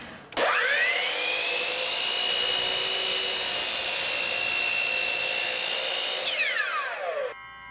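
A Hitachi C12RSH miter saw spins up and cuts through a workpiece, a loud steady high-pitched whine for about seven seconds before the motor winds down, with no talk over it.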